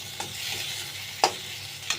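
Black cumin seeds and onion paste fry in hot oil for a potato and koi fish curry: a steady soft sizzle with a stirring scrape and two brief sharp knocks of a spoon.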